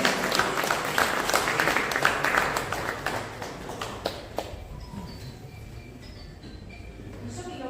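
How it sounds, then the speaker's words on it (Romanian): An audience claps for contest winners at a live event, dense and loud at first, then thinning to scattered claps as the applause fades out. "Once again, a big applause for the winners."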